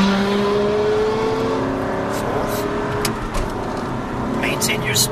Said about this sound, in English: And there's a car overtaking on the right.